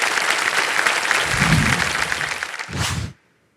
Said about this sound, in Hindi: एक बार जोरदार तालियां बज जाएं